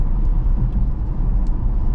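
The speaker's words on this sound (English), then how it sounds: "this car's been driving itself" Steady low road rumble and tyre whir inside a Tesla driving itself under Full Self-Driving on a scenic route toward Georgetown, continuous and even with no talk.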